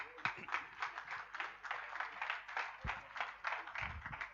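Audience applause at a prize-giving ceremony on a school's 93rd anniversary day, a steady patter of many hands clapping, fairly faint and distant, running alone for several seconds.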